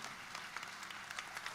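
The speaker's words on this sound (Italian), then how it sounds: "eccola qua, un applauso." An audience at a Sicilian Christmas event claps to welcome a guest, a faint, distant patter of many hands, steady and thin for a brief moment.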